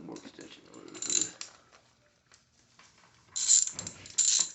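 A wrench ratchets on a dog's prosthetic leg in a few short clicking bursts near the start and end, with a voice in between.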